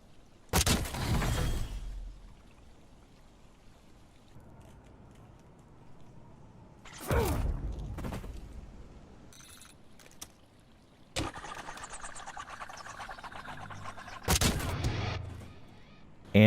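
Weapon fire in the video game Black Ops 7 comes as several separated loud booming blasts spaced seconds apart, each followed by a rumbling tail, over quiet in-game background sound.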